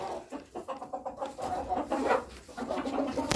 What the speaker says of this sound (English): So I'm out here every night checking my chickens.